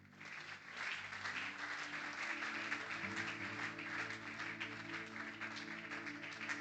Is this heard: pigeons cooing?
no